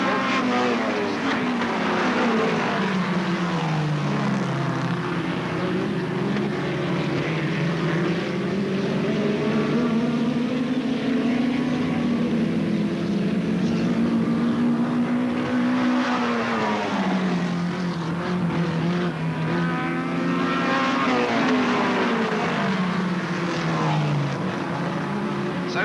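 Race cars at Alwalton Raceway in 1983, a continuous loud engine roar with rising and falling pitch as several cars circle the track, sustained throughout without pause.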